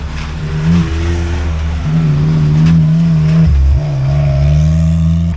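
A side-by-side off-road vehicle passing on a dirt backroad by Sheeps Bridge, a loud, close mid-pitched engine drone that shifts and revs as it goes by, with no talking.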